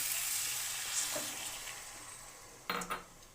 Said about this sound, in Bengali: মশলার সাথে ভালো করে কষিয়ে নিলাম সবজি এবার দিয়ে দিলাম সামান্য জল